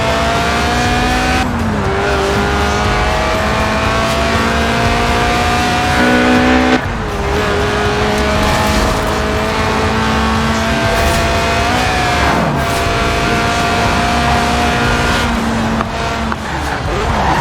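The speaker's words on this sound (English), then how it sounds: "it's a Sport 190, a tuned-up, stripped-out Elise for track days" A Lotus Elise Sport 190 sports car engine in the video game Forza Horizon 4 revs loud and high through the gears, pitch climbing and dropping with each shift, a steady roaring drive without pause.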